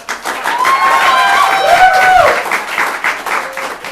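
An audience at a waffle festival show bursts into steady applause and cheering that swells and then gradually tapers, with a few whoops rising above the clapping.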